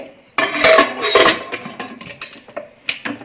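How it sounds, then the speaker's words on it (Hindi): Metal clanks and scrapes as a heavy pressure cooker lid is handled and fitted, with several sharp clinks trailing off. "कुकर को बंद कर देंगे।"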